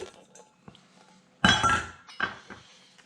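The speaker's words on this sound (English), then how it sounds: "Now we're going to add the chickpeas, the carrots, and the potatoes." Chickpeas, carrots and potatoes go into a pot for Paraguayan puchero, heard as a loud close clattering rush of pieces hitting the pot, followed by a few lighter clinks and knocks.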